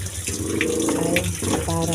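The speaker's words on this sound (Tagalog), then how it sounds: "Tapos nagpaagas ta og tubig guys." Water runs steadily from a tap to rinse freshly cleaned slippers, a moderate splashing flow that continues throughout, with a voice talking over it at times.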